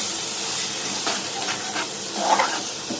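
Mushrooms frying in oil in a pan on a stove, a steady, loud, close sizzle with soft crackles and pops throughout and no voices.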